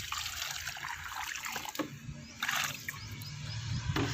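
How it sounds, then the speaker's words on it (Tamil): Water poured onto a freshly repotted rose plant, a steady trickle and splash into the soil with brief louder gushes, close by and alone without talk. "இப்போ வந்து தண்ணி நல்லா கொடுத்துக்கலாம்."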